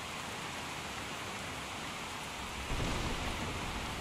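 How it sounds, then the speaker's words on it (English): Steady, heavy rain pours in the video game Skyrim, a dense, even hiss of falling water that swells slightly louder near the end, with no voices over it. "Can't hear Buckus over the rain, which is nice."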